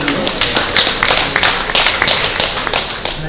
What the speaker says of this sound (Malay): Saya mohon lah kita bagi satu tepukan untuk mereka semua ni.